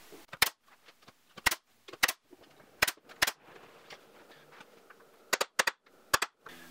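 A nail gun fastens a window stool with about a dozen sharp, close cracks, some single and some in quick pairs, separated by quiet pauses.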